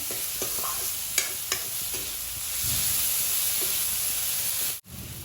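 Papaya and potatoes frying in a pan make a constant soft sizzle, with a few light utensil taps early and a short dropout near the end.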